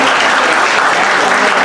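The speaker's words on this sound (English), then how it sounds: "Please give them a round of applause" Audience applause for serving staff at a Vietnamese festival press conference, a loud, dense, continuous burst of clapping from the crowd.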